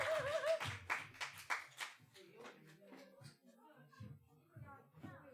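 Scattered clapping from a church youth-service congregation in Korea, mixed with voices and some children's chatter, fairly close, fading after a couple of seconds into quieter murmuring.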